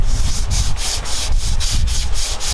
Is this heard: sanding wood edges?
yes